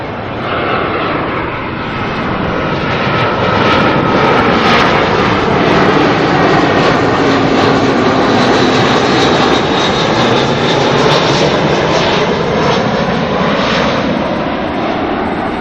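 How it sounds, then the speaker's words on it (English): A Jetstar Airbus A320 arriving from Queenstown at Auckland Airport roars loudly and steadily as it passes, a broad jet-engine rumble with a whining tone that swells and holds throughout. "we'll grab this next 320 that's coming in from Queenstown"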